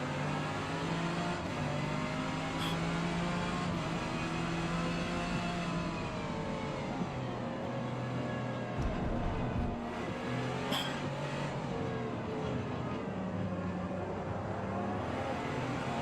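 In a racing video game, a Gordon Murray T50's engine howls continuously and loudly for sixteen seconds, with a steady high-pitched tone that rises and falls as the car accelerates, alone without voices.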